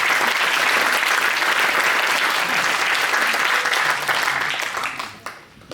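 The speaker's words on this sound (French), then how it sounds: "Je vais les applaudir." An audience at a children's conference applauds the children, with loud, dense clapping sustained for several seconds before it thins out and fades at the end.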